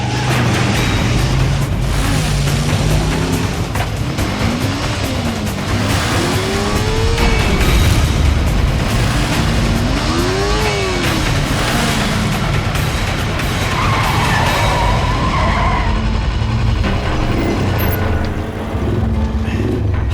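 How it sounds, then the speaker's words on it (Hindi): A speeding truck roars past on a road, a loud continuous engine drone with rising and falling pitch sweeps and tire noise, filling the whole stretch under dramatic music. "ये ट्रक क्यों इतनी तेजी से जा रहा है?"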